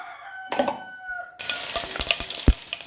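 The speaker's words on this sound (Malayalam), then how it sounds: "കടുകിട്ട് കൊടുക്കാം" Mustard seeds sputter and pop in hot coconut oil in a pan: after a quiet start, a sudden burst of dense sizzling, crackling and sharp pops close by.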